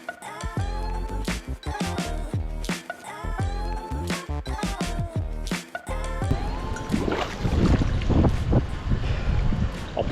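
Splashing and sloshing water from a swimmer in an empty rooftop pool, starting as choppy, intermittent strokes and building into denser, louder continuous churning near the microphone.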